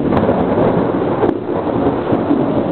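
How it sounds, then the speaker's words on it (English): Thunderstorm outdoors: loud, continuous rumbling thunder rolling over steady rain and wind, with a couple of sharp cracks, no one talking. "I love sitting out here during storms."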